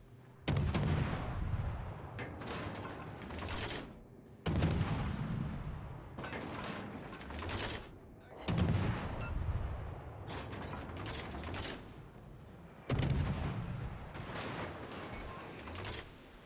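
Naval gun salvos from warships in World of Warships Legends, four loud heavy booms spaced a few seconds apart, each trailing into a long rumbling roar with mechanical clatter between shots.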